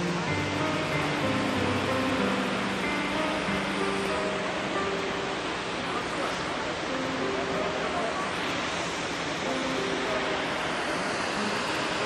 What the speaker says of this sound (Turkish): Yanımızda büyük bir şelale.